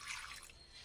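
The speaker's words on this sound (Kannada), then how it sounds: "ಮಿಕ್ಸಿ ಜಾರಿಗೆ ಸ್ವಲ್ಪ ನೀರು ಹಾಕ್ಕೊಂಡು" A little water is poured into a mixer-grinder jar to rinse out ground spice paste for a mango gojju, a brief, faint trickling splash with no voices.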